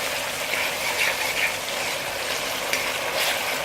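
Ketchup fries in hot oil for a Jamaican salt mackerel fry-up, giving a steady, close, even sizzle with a few faint crackles and no voices.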